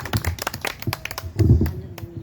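A church congregation claps in memory of departed members, giving a short burst of irregular, fairly close hand claps that swells briefly before thinning out.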